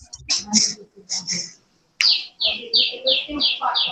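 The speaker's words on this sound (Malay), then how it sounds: "Dia ada bunyi ayam ke bunyi burung tu." Repeated bright chirping calls from a bird or chicken come in quick bursts, loud and close, with a short silent gap partway through.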